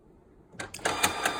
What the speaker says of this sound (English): now we're going to watch my printer magically spit out my newly printed label